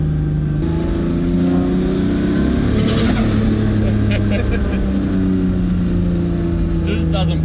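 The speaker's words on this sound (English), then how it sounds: "It revs for a long time" An RB20-swapped Ford AU Falcon engine revs loudly and close by, its pitch climbing and falling in long sustained sweeps under some talk.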